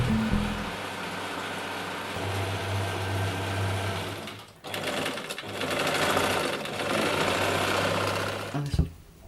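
A sewing machine stitches an embroidered design, running in a loud, steady mechanical whir with brief pauses and restarts, close up and with no talk over it.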